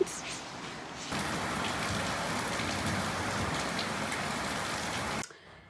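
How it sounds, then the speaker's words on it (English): Steady, dense downpour of heavy rain, a constant broadband hiss that swells in after a moment and then cuts off abruptly near the end. "it's currently pouring"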